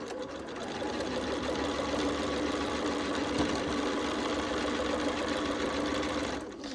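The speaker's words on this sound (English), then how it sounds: "I'm sewing shape 1 and 2 together from the first row." A sewing machine stitches quilt block pieces together, its fast, even motor hum and needle chatter running steadily and close for several seconds before stopping.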